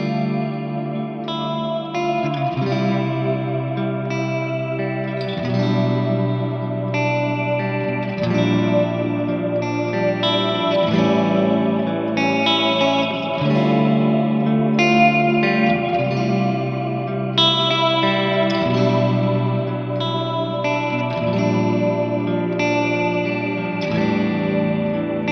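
Ambient electric guitar chords drenched in reverb and chorus, including a natural 6th chord, strummed slowly in sustained shimmering washes, each chord ringing into the next, with no voices.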